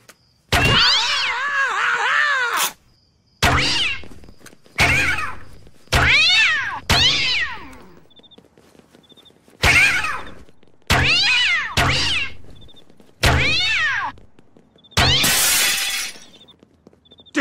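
Cartoon cats fired from a cat launcher let out a string of about ten loud, drawn-out yowls and meows in separate bursts with short silences between, the last one harsh and noisy.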